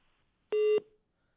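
A single steady phone-line tone sounds after a caller on a TV news phone-in drops off, one short clear beep alone against near silence.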